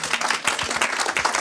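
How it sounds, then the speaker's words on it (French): An audience at a Paris natural language processing meetup gives a short burst of clapping, with individual claps clearly audible in a quick, uneven patter at moderate volume. "Vous pouvez applaudir."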